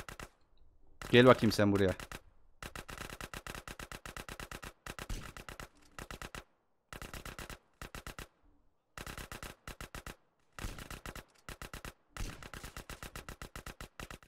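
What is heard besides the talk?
gunfire in the video game GTA: San Andreas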